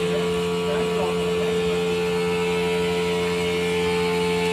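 A Hitachi air conditioner outdoor unit runs loudly at night with a steady droning hum, constant tonal whine and broad mechanical rush that does not change throughout.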